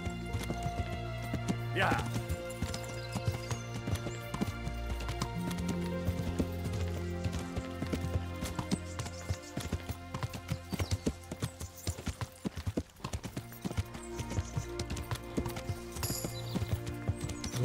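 Horse hooves clip-clop at a steady walking rhythm in the medieval game Kingdom Come: Deliverance, close and continuous beneath a game music bed, with a short spoken word from a player.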